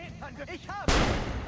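Broadband gunshot blast in the video game Assassin's Creed Brotherhood bursts in after a series of short tonal chirps, loud and close, with the crack ringing out into a sustained rumble.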